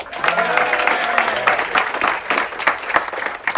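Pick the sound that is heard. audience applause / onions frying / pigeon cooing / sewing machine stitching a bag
audience applause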